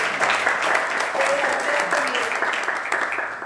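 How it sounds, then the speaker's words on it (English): Steady applause from a crowd at a breadmaking cooking class, dense clapping filling the whole stretch with no pauses, fairly loud and close. "Give the kitchen a round of applause"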